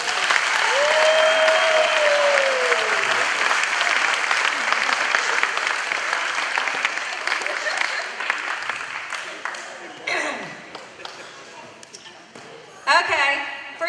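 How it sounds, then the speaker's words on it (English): An audience at a chili cooking competition awards gathering breaks into sustained clapping that gradually thins into scattered claps, with a voice speaking over the applause. "Give them a round of applause"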